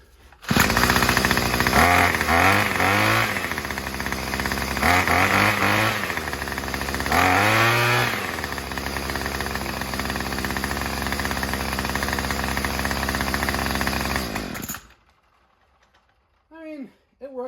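Troy-Bilt TB35EC string-trimmer engine fitted with a blower attachment runs loud and close, revving up and down in several surges before cutting off abruptly, leaving near silence with a few faint sounds.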